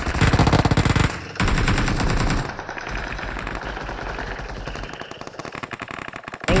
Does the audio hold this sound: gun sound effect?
yes